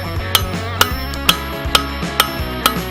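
Hammer blows on a railroad spike being forged into a push dagger while the corners are fullered, about six sharp metallic strikes at a steady, evenly spaced rhythm over a low background hum, with no talking.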